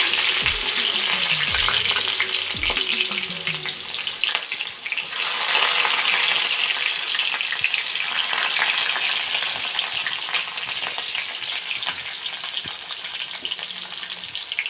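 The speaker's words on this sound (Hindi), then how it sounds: "तो तेल हो गए गरम, एमा मैं डाल दें लहसुन" Garlic frying in hot oil in a kadhai, giving a continuous loud sizzle with crackling pops and occasional scraping stirs, close up and without speech.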